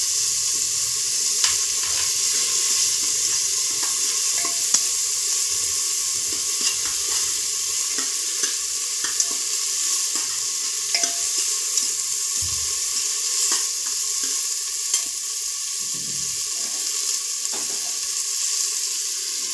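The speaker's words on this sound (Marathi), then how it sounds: "त्यामध्ये परत टमाटर घातलं. टमाटर घालून परत परतायचं." Tomatoes and vegetables being stirred and sautéed in a pan after curry leaves go in, giving a steady close sizzle with scattered scraping and stirring clicks throughout and no talk.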